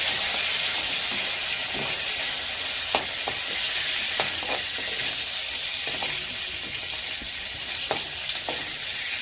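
Salted food frying in a pan, a loud continuous sizzle with sharp intermittent scrapes and taps of stirring throughout.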